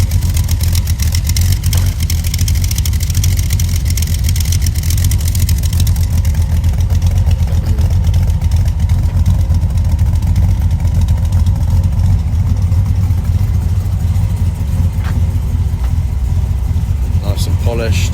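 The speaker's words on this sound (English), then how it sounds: "The car chugging away." A car engine chugging steadily at idle, a loud, close, continuous low rumble, with people talking over it.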